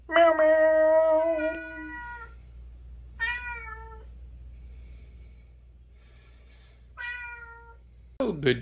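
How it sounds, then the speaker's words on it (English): A cat meows loudly several times, one long drawn-out call followed by two shorter meows spaced a few seconds apart, with a brief rustle at the end and no talking. "Meow. Meow, meow."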